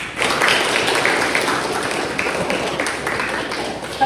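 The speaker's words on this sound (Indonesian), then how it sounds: "Oke, betul, beri aplaus" Audience applause fills a teaching session, a dense, continuous wash of many hands clapping at close range for about four seconds.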